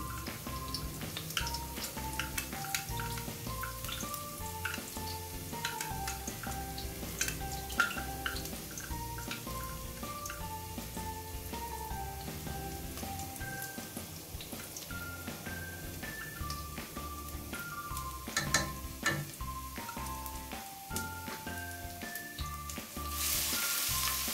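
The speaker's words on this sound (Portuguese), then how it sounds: "eu vou fritando aqui o alho" Steady sizzling of garlic frying in a pan for soup, crackling softly and continuously, with occasional stirring and faint background music.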